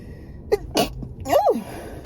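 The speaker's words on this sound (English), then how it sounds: "I have to sneeze." A single person sneezes nearby, a quick sharp intake followed by the loud burst, close to the microphone.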